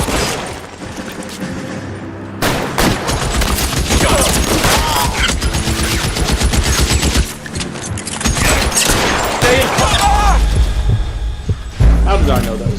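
Gunshots in the detective video game L.A. Noire, heavy shots and thumping impacts over a loud, dense game soundtrack, with someone talking over the action.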